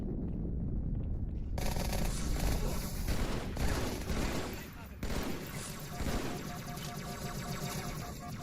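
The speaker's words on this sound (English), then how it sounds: "Stop shooting at me!" Gunfire in Halo 2 rattles in loud, dense bursts of rapid shots over game noise and explosions, with people talking over the action.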